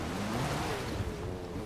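A car splashes and surges through water in Forza Horizon 4, a steady rushing wash of spray and churn with a low engine undertone, with no talk over it.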